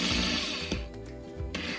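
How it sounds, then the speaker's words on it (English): A drill bores slowly into a resin bottle cap pendant, a close, steady whirring buzz with a couple of brief catches and changes in pitch, no voices over it. "So I drill"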